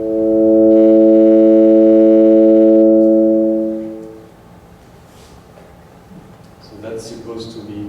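A synthesized vowel 'O' made with FOF formant synthesis sounds as a loud, steady, hollow buzzing tone. It holds evenly for about four seconds before fading, followed by quieter room noise.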